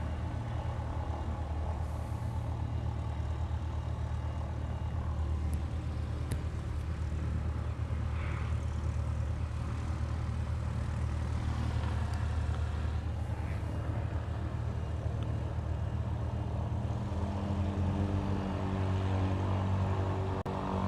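A Mokulele Airlines airplane arrives at Honolulu airport, heard as a continuous low droning rumble at a distance that holds steady, then shifts slightly in tone toward the end.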